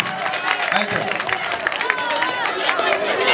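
A school competition audience applauds and cheers in a lively, crowded room, clapping mixed with chatter and excited voices at steady loudness throughout.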